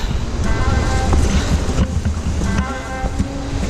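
Lakshapana Falls, heard from its lower section, gives a constant dense roar of falling water, close and loud, mixed with gusty wind buffeting the microphone.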